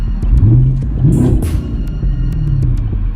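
A Camaro SS engine rumbles close by with a few rising revs as the gas is pressed, deep and loud without any voices.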